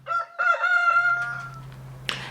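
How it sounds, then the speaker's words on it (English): A rooster crows once, loud and close, with a long drawn-out call in a quiet rural setting, followed by a brief sharp burst of noise near the end. "you are woken up by the roaster, by the chicken, or you're woken up by the chickens"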